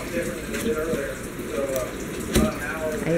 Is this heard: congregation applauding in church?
no